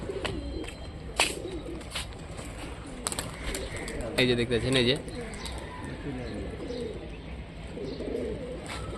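Low pigeon cooing hums under a man's speech at a home loft in Rajshahi where old-breed flying pigeons are kept, with a few sharper clicks and rustles mixed in.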